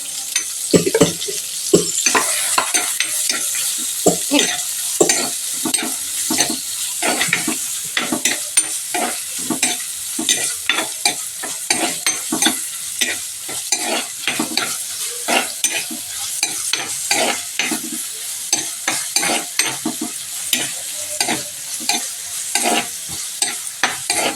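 Prawns sauté in hot oil in a pan for a pickle, with steady close sizzling and constant scraping and stirring strokes throughout.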